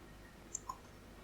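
Two quick, faint clicks of a computer mouse's middle button while navigating a 3D modelling program, close and isolated over quiet room tone.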